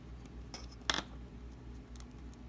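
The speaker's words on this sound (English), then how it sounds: "just cut along the edge and snip off that point" Scissors snip a small paper piece for a miniature retro diorama: one brief crisp cut near the middle, with a couple of fainter snips later, over a quiet room background.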